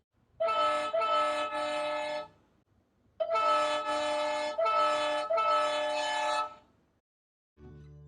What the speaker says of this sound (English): quickly toggling the function button cuts out the horn immediately, allowing one to play the horn in short bursts